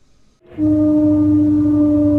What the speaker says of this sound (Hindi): In Sweden, this sure sounds like a trumpet.